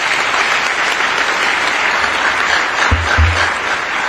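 An audience at a public gathering claps steadily and loudly for the whole stretch, a dense wash of hands with a couple of low thumps near the end and no talking.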